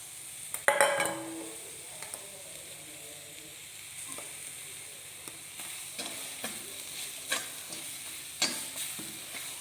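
Grated coconut, onion, curry leaves and pepper roast in a hot iron pan, giving a soft, continuous sizzle punctuated by intermittent spatula scrapes and clinks against the metal, close by and fairly quiet.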